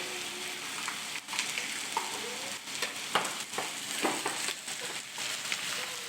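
Minced pork larb sizzles and fries in a pan while being stirred with Lampang chili paste, a steady close crackle broken by irregular scraping and clattering strokes of the spatula, with no voices.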